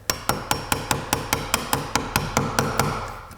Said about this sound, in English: So I'm gonna chisel that off, make that flat